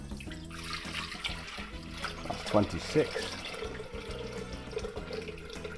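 Water pours steadily into a Thermomix TM6 kitchen appliance, a continuous close splashing gush with someone talking over it.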